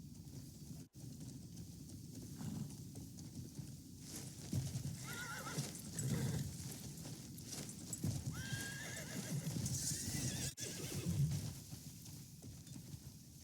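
A horse in Crimson Desert whinnies and snorts over steady clip-clopping hooves, with rain-like background hiss; no one speaks.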